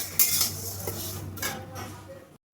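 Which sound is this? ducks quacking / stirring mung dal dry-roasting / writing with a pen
stirring mung dal dry-roasting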